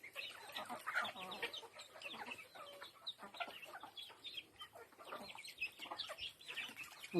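Chickens cluck continuously around a home yard, a busy stream of soft, overlapping calls at moderate distance with no talk over them.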